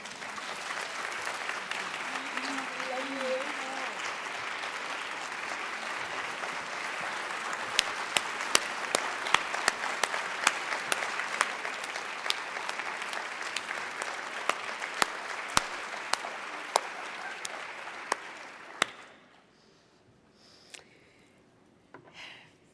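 A conference audience claps for a long stretch, a dense wash of hands with sharper individual claps standing out, holding steady before tapering off to near silence at the end.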